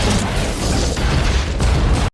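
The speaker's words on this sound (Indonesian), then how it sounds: "seseorang menekan tuas bom dan meledakkan gerbong penumpang." A loud, sustained explosive roar of a bomb blowing up a train passenger carriage fills the space, a dense rumbling blast that continues for about two seconds before cutting off abruptly.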